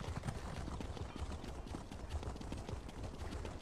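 A horse mount in the video game Elder Scrolls Online trots with quick, steady clip-clop hoofbeats, close and continuous throughout, with no clear speech over them.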